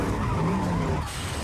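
A car skidding in a horror film crash scene, a sustained tyre squeal with engine tone that cuts off abruptly after about a second, close and loud, with no talking.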